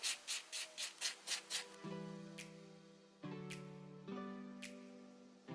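A buffing block filing press-on nails: first a quick run of about seven short rhythmic rasping strokes, then a few longer drawn-out rubs with low tonal hum, close and quiet, with no talking.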